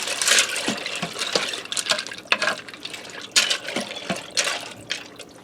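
Dried elbow macaroni tipped into a pressure cooker and stirred, giving rattling, clinking bursts of hard pasta against the metal pot with wet swishes between them, close and fairly loud, with no talking.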